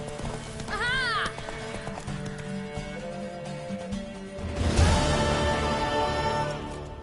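A horse in The Witcher 3 gallops with rapid, rhythmic hoofbeats, an early whinny cutting through, and the pounding grows louder and closer in the second half.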